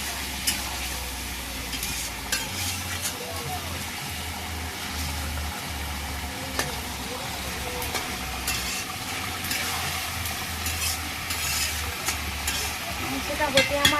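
Meat cooking in a pot in a village kitchen is stirred, giving a long, even sizzle with scattered scrapes and knocks, over a low droning hum throughout.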